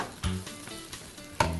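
Five-spice dried tofu and vegetarian meat stir-fry in a pan with a brief sizzle and two scraping utensil strokes, fairly quiet and close.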